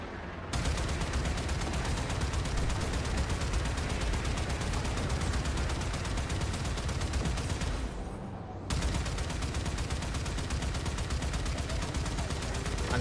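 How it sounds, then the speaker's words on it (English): Heavy weapons fire in the video game Warframe, a dense continuous barrage of blasts and booms that fills nearly the entire stretch, broken by one brief lull near the eighth second. "Fire torpedoes."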